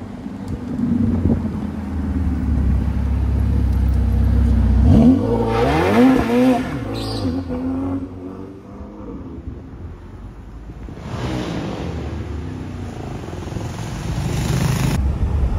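A car engine on a Paris street makes a low steady rumble, then revs up with rising sweeps of pitch before easing off under wind noise, and a second loud surge follows near the end.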